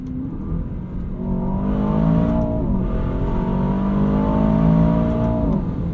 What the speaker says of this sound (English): in manual mode, it lets you rev it all the way out to redline for ultimate satisfaction